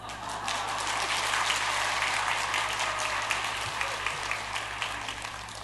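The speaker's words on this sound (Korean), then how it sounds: "박수로 환영해 주셔서 감사합니다." Steady applause from a church congregation at a Sunday afternoon service, welcoming the preacher; a dense, even wash of clapping that holds at a constant level throughout with no voices over it.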